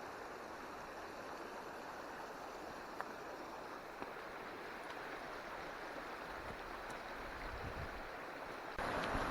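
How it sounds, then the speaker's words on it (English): A creek flows steadily along a hiking trail, its broadband rushing water close and continuous for the whole stretch, with no voices over it. "dip your feet in the creek"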